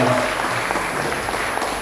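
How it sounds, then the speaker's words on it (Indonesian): Steady applause from an audience at a training session for communicators, a dense, even wash of clapping heard alone for a couple of seconds. "kasih tepuk tangan buat teman-teman komunikator"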